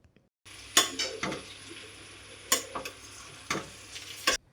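Pork stirred in a frying pan for a pork and plantain curry, with a steady low sizzle and several sharp scraping strokes of a spoon against the pan at irregular intervals, close and fairly loud.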